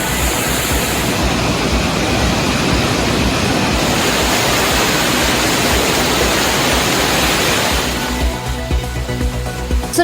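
Kumbakkarai waterfall near Periyakulam in Theni district, flooded, roars as a loud, continuous broadband rush of heavy falling water, steady and close with no voices over it.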